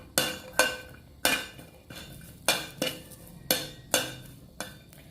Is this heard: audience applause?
no